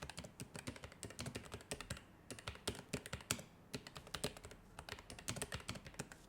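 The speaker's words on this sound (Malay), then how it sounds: "Untuk keyboard ni aku ambil yang red switch sebab aku suka yang jenis senyap tapi masih nak mengekalkan clicky feeling tu." Fingers type steadily on a low-profile keyboard with red switches, an aluminium top case and a plastic bottom case, giving quick soft clacks in uneven bursts with brief pauses and no voices.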